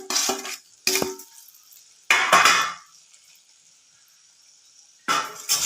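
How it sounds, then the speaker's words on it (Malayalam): Fish is stirred into fried spice powder in a pan for fish pickle, several short bursts of scraping and clattering utensil strokes with soft sizzling, separated by quiet pauses. "നന്നായിട്ടൊന്ന് ഇളക്കുക."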